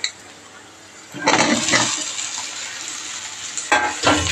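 Okra hits a pan of frying onions: quiet at first, then a loud burst of sizzling with stirring scrapes that settles into a steady fry, followed by two more short surges near the end.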